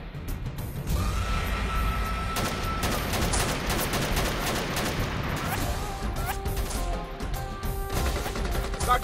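Staged gunfire on a film set in Peshawar, a dense run of sharp shots fired in rapid succession over several seconds, loud and close, with brief voices and background noise around them.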